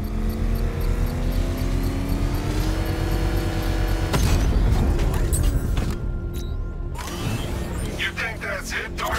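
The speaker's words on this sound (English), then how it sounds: "Power winch to trigger a controlled explosion." In Batman: Arkham Knight, a power winch drags to trigger a controlled explosion: a steady mechanical drone and engine hum build, then a heavy blast erupts midway with rumbling debris and crackling aftermath, with voices briefly present.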